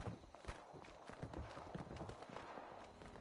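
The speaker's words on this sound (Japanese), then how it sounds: "すごい足音する。" Heavy footsteps thud steadily in the Fallout 76 video game, a dense irregular clatter of steps that stays loud and close throughout, with no talk.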